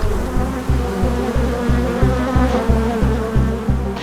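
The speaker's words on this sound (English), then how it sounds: "No, it's bees." A thick, steady drone of many bees buzzing close by, loud and continuous with a faint regular pulsing underneath.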